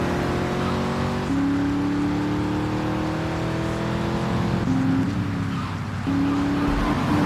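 A sports car in Grand Theft Auto III drives along with its engine tone climbing and dropping through several gear changes. The whine is fairly close and continuous, with no talking.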